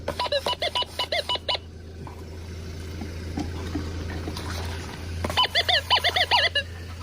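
A Minelab Gold Monster 1000 metal detector over gold in its scoop gives rapid bursts of warbling electronic beeps, pauses over a low background hum, then beeps again in a quick repeating run.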